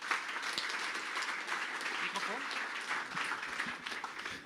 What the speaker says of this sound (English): give a warm applause for our first speaker